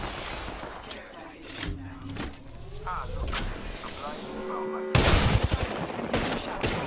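Apex Legends gameplay carries bursts of rapid gunfire and booming impacts, with a loud volley near the end over game effects and a voice talking in the background.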